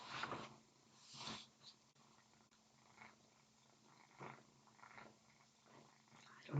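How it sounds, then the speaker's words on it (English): A cat purring up close, a soft low rumbling that swells and fades in slow breaths, fairly quiet, with faint voice-like sounds around it. "I don't know if you can hear that purring"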